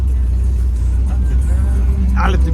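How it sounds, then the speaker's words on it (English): Ford F600 meat haul truck engine idling steadily with a heavy low rumble, near and continuous throughout, with a brief higher mechanical whine near the end. "I got the meat haul truck running"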